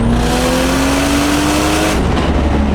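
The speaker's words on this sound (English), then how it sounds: "we'll try a third gear pull really quick" A 600whp car pulling hard in third gear, a loud close engine roar rising steadily in pitch before an abrupt lift-off into a rough, lower rumble.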